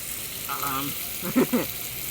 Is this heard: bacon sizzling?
yes